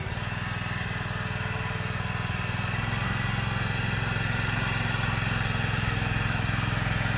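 Steady, loud engine drone from a power tiller revving while it tills a field after a 48-inch trench-method sugarcane harvest, running close and continuous with a rapid mechanical pulse and no break or talking.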